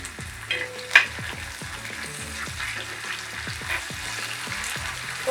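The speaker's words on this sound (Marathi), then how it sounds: "आता यामध्ये मी आलं लसूण मिरची पेस्ट घालत आहे।" A ginger, garlic and chili paste sautés in a pan while a spoon or spatula scrapes and taps in a regular rhythm over a soft, steady sizzle, fairly close and not loud.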